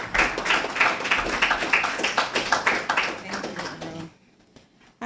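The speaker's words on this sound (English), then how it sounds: "Let's have a round of applause for Sheba." Attendees at a regular meeting of CARICOM heads of government clap in a moderate round of applause for about four seconds, uneven and fairly close, before it cuts off into near silence.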